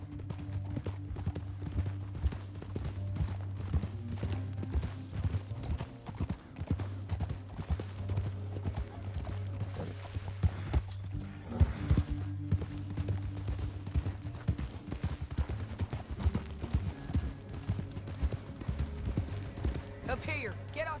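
Horse hooves in Red Dead Redemption 2 beat a steady, close clip-clop throughout, layered over a constant low rumble and occasional voices.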